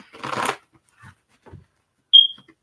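A brief riffle of cards being shuffled up close, followed by a few soft taps and then a short, sharp electronic beep.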